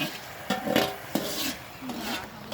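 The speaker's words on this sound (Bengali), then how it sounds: "এখানে রান্না করছি সবজি।" Vegetables are stirred while cooking in a pot, with intermittent scraping and clinking of a utensil against metal over soft sizzling, several distinct strokes close up.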